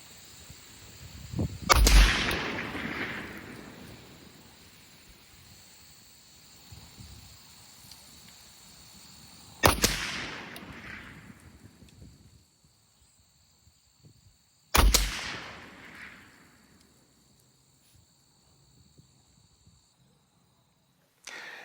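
Three rifle shots from a Hi-Lux M40 sniper rifle firing 168 grain ELD hand loads, each a sharp loud crack with a decaying tail, spaced several seconds apart over quiet outdoor background.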